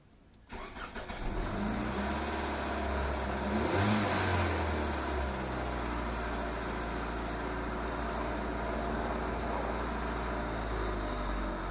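A cold car engine cranks and catches after a short quiet moment, revs briefly, then settles into a steady, loud idle nearby.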